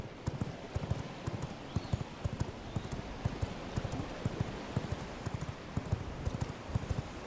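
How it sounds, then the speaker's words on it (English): Horse-drawn carriages clip-clop along a road in the game V Rising, a steady run of hoof knocks in irregular rhythm, fairly close and continuous. "I'm assuming these are like actual carriages on the road."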